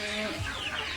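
Chickens cluck briefly at a farm, a short burst of close clucking over a noisy outdoor background.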